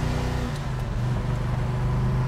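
A 1969 Mercury Cyclone with a 428 four-speed revs and pulls away, a loud deep rumbling engine note rising and holding close up, with no voices.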